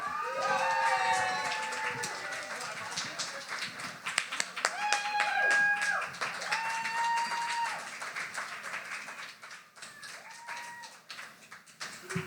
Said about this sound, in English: please give a big round of applause for our next poet coming up to the stage